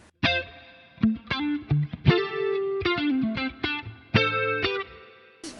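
A clean electric guitar through a Fractal FM9 preset with a large five-second spring reverb mixed low: plucked single notes and chords ring out one after another in a loose melodic phrase, each decaying into a shimmering tail.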